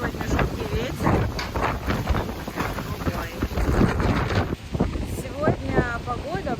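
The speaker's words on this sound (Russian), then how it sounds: "У нас сегодня жуткий ветер." Strong, gusty wind buffets the microphone outdoors in Paris, a continuous broadband roar rising and falling, with faint speech and some brief chirpy sounds near the end.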